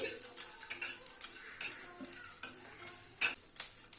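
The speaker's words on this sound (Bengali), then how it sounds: "চিনে বাদামগুলো দিয়ে দিচ্ছি সবগুলোকে গ্যাসের ফ্লেমটাকে কমিয়ে হালকা করে রোস্ট করে নিচ্ছি" Peanuts roasting in ghee in a pan on a low gas flame: a quiet, soft sizzle broken by irregular clinks and scrapes of a stirring spoon against the metal, with no voice.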